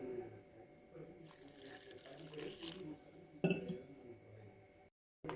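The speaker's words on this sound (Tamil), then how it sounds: "போட்டு கொஞ்சமாக தண்ணி விடுங்க." Water is poured into a bowl of bajji batter mix for tea-stall style fritters, a brief trickle with light clinks of glass and utensils, fairly quiet, ending in a short silence.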